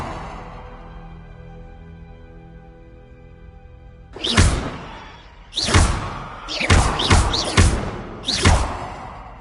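Reparo repair spell effect in Hogwarts Legacy, a run of sharp thumping impacts with whooshing tails. Five or six hits land in close succession after a quiet stretch carrying a soft ambient tone.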